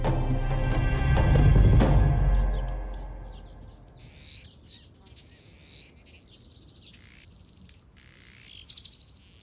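Male Rüppell's weaver birds building hanging nests in a dry, dusty Arabian oasis give scattered, sharp chirps and buzzy calls. They start after a loud rumble fades and grow busier toward the end.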